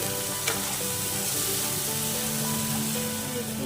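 Capsicum with a spice mixture frying and being stirred in a pan: a loud, dense, unbroken sizzle heard close up, with a faint steady hum underneath and one small clink early on, no speech.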